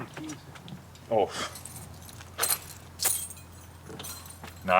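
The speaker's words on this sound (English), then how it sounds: "I need the keys." Metal keys jangle and clink in sharp bursts while being handled inside a vintage RV, close and fairly loud, broken up by people talking between the rattles.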